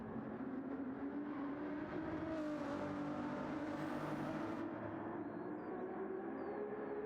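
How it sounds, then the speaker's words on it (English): Ferrari race car engines roaring in a racing video game at the Montreal circuit, a sustained high-revving drone with shifting pitch and a brief swell of higher whine midway, no talking. "Just listening to the fantastic Ferrari engines."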